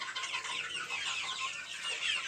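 A flock of roosters clucking and murmuring continuously, fairly close, with a dense busy chatter and no talking.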